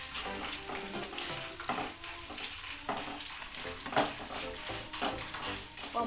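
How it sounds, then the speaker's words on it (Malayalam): Semiya (vermicelli) roasts in a pan for payasam, making a continuous close crackling sizzle broken by regular stirring scrapes. Soft background music plays throughout. "ഈ സേമിയ നന്നായിട്ട് വറുക്കുക കേട്ടോ"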